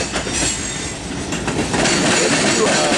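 CSX Q464 freight train making a reverse and crossover move near Hamlet on its way to Florence, rolling close by with a loud, steady rumble, wheel clatter and faint squeal throughout.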